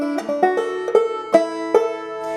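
Clawhammer banjo playing one halftime cycle of a Galax lick, a handful of bright plucked notes over a steady ringing drone string, close and alone with no talk.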